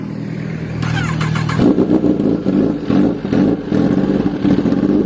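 A Kawasaki ZX-10R sport motorcycle engine idles, then revs hard in repeated loud bursts through a throaty SC-Project CRT aftermarket exhaust, close to the microphone.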